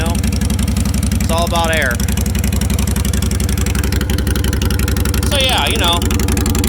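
A motorcycle with its mufflers removed idles loudly in a fast, even, throbbing rumble that never lets up, while someone talks over it.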